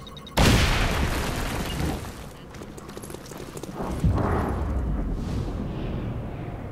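Explosions in the video game XCOM: Chimera Squad, a sudden loud blast followed by a long rumbling decay and a second heavy boom a few seconds later, with no talk.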